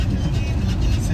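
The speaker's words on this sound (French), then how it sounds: "C'est le bruit du moteur" Steady low engine rumble from inside a car cruising along a ring road, continuous and fairly loud with no clear gear changes or revving.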